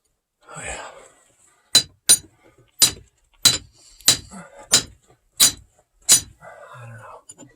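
A framing hammer strikes drill steel into rock inside an abandoned silver mine, with eight sharp metallic clinks in a steady, evenly spaced rhythm, close and loud, and quiet speech before and after.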